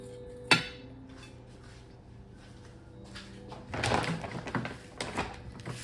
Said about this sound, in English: next I'm going to grab my bowls